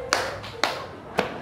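Students in a classroom clap in unison during a rhythm exercise, three crisp, evenly spaced group claps over a quiet room.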